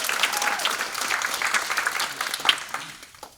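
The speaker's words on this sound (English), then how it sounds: "So a round of applause, please." Audience applause at a poetry summit in Malibu, a lively round of clapping from a room of people that swells, holds, then tapers off near the end.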